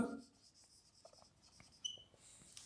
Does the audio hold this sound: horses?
no